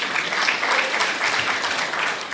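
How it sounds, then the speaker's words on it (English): Steady applause from an audience at a customer networking and awards forum, a continuous dense wash of many hands clapping at moderate distance for a couple of seconds. "can you clap for him"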